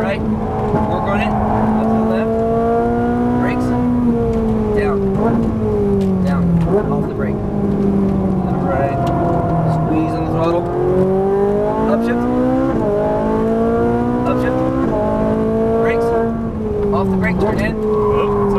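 A Ferrari 458 driven on a race track accelerates and shifts gears repeatedly, its engine note rising and dropping loudly and continuously while an instructor talks throughout.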